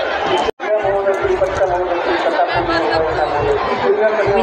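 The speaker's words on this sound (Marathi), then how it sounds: "मस्त गर्दी आहे बाबा इथं." Dense crowd chatter at Dikshabhumi in Chandrapur, many overlapping voices forming a continuous close murmur, with one brief cut to silence early on.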